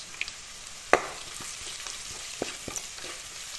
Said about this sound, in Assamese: তেলতে ভাজি ললো